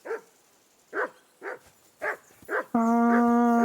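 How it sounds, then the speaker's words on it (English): A dog in the medieval game Kingdom Come: Deliverance 2 barks five times in a steady rhythm, sharp mid-pitched woofs spaced about half a second apart, followed by a sustained tonal chime. "Henry, that barking's driving me nuts"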